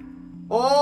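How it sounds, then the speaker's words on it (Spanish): In the video game Stray, a cat's meow sounds close and clear for under half a second, after a low steady hum. "Oh, si maullo me detectan."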